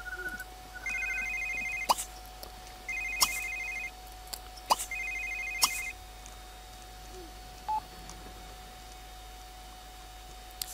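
Telephone in The Sims 3 rings in repeated electronic trilling bursts, three or four rings spaced about a second apart, clear and moderately loud over a faint steady background hum, with a short beep near the end.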